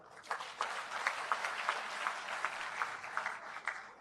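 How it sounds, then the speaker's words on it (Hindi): An audience at a natural farming seminar held by a dairy cooperative claps for itself in a dense, steady wash of applause with faint rhythmic pulses, and no voices over it. "अब अपने लिए ताली बजाओ।"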